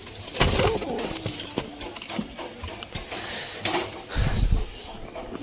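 A red pigeon coos softly in a loft, low throaty calls coming in short bursts near the microphone over faint background shuffling and wing or foot noises.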